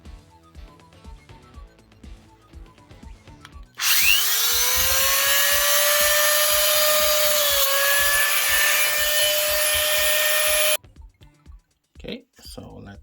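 A small drill bores into a small printed circuit board for handheld console buttons, a loud steady high whine running about seven seconds alone, with quieter handling sounds before and after.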